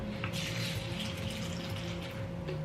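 Liquid mixer poured onto dry protein cereal in a bowl, a soft, steady trickle and splash that stays quiet for a few seconds over a low background hum, with no talking.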